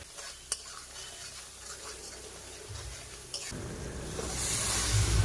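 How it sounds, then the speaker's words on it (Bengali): A spoon stirs spice paste of turmeric, chilli powder, cumin and mustard paste with vegetables, prawns and spinach in a pan, faint scraping with a soft sizzle that swells louder toward the end, plus a couple of sharp utensil clicks. "মশলা সবজিটাকে এদিক ওদিক ভালো করে নেড়ে নেব"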